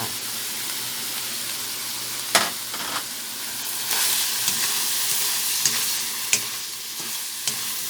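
Curry powder crab stir-fried dry with vegetables in a pan, a continuous loud sizzle with scraping stirs and occasional clatter of the utensil, close up.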